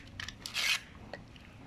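A throttle part is sanded by hand with sandpaper in a few short, close rasping strokes, one longer scrape in the middle and quieter scuffs on either side.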